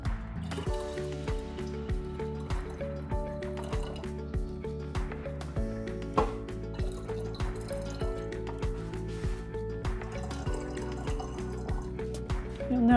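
Brewed tea for kombucha is poured into jars, making a trickling, dripping stream with repeated small splashes and filling sounds throughout, no one talking.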